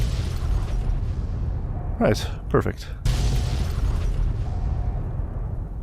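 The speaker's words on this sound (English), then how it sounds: "A few more explosions for good measure, just to burst my eardrums a bit more." Explosions and bursts in the video game Fallout: New Vegas, a couple of sharp booms heard around the middle amid steady game noise, with someone talking briefly over them.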